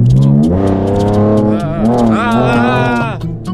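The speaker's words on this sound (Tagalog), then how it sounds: "Parang mabilis nga tong kotse po kuya Jay" A fast car revs and accelerates hard, its engine tone climbing steadily and loudly up close from inside the cabin, with people talking over it throughout.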